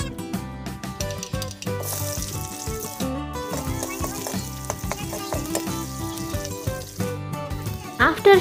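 Onion and mustard seeds frying in refined oil in a kadhai give a loud, steady sizzle with popping and spatter. Stirring clatters and scrapes underneath, and background music runs through it.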